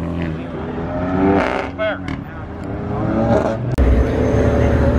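Supercars accelerating hard as they leave Dallas Cars and Cantina, engines revving and roaring past with rising whines and a sharp pop, loud and nearby, with people talking over the noise.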